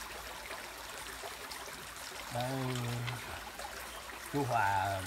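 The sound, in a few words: forest stream flowing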